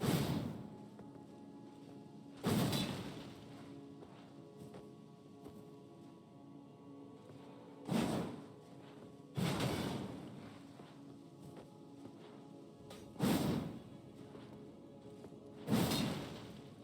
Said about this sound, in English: This is the one-handed and two-handed heavy and charged heavy attacks for the Crescent Moon Axe and the Axe of Godrick.